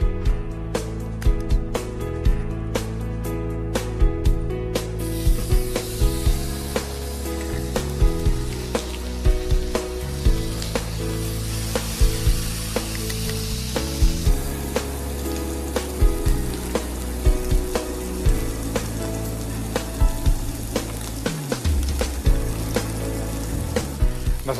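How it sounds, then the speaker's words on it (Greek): Rib-eye steaks sizzle in a very hot frying pan, a close and steady frying hiss with crackling spatter that carries on without pause for the whole stretch, with no one talking. "Αφού ζεσταθεί πολύ καλά το τηγάνι λοιπόν, τα ρίχνουμε και περιμένουμε για 3-4 λεπτά από τη μία πλευρά"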